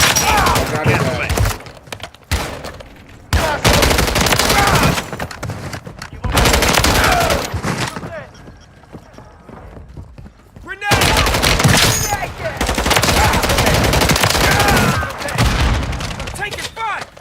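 Automatic weapon fire in Call of Duty MW3 Zombies: loud bursts of rapid gunshots and booms in several long volleys separated by quieter gaps, with voices talking over the action.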